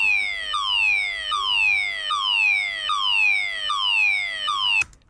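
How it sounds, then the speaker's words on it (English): Alarm sample used as found sound for music production: a repeating electronic alarm tone sweeps downward in pitch about every half second, loud and steady, cutting off abruptly near the end. "Let's see what I can do with this alarm."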